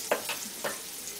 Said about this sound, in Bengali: পেঁয়াজটাকে হালকা করে ভেজে নিচ্ছি।